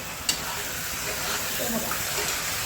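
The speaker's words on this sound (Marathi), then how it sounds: "4-5 कांदे 3 टोमॅटो टाकले होते. म्हणजे सगळं मिळून असं छानपैकी हलवायचं." Chicken curry with onions and tomatoes is stirred in a pan under a steady, close sizzle, with one sharp utensil clink near the start.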